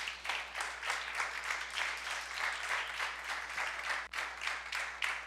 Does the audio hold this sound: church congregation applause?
yes